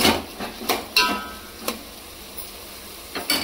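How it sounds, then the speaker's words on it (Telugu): Tomatoes are added to a frying pan and stirred, giving a low background sizzle under sharp clinks and scrapes of a utensil against the pan. The clinks come at irregular intervals, with a pause in the middle. "టమాటా వేసుకొని ఒకసారి తిప్పుకొని"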